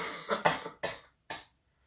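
Several dry coughs in quick succession, close and fairly loud, the last one separated by a short pause, with silence after.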